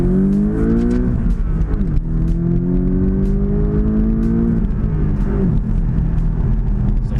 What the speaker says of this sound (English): you do your own rev matching, so you don't have to auto rev match